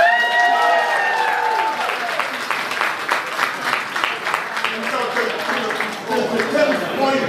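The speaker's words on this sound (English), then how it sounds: "we'll clap for the late great pioneer AJ Extravaganza" Applause from an event audience in New York City, a dense steady patter of many hands clapping throughout, with voices and cheers mixed into the crowd noise.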